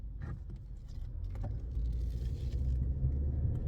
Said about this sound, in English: Just waiting for this car to go.